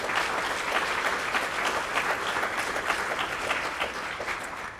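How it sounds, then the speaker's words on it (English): Steady applause from a conference audience after a security talk on hacking Bluetooth Low Energy, dense clapping sustained evenly for several seconds with no speech over it. "So I think those guys deserve their own round of applause"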